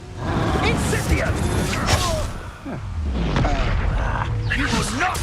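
Casting the Incendio fire spell in the Hogwarts Legacy video game brings loud whooshing bursts and booming impacts, with combat effects layered over them.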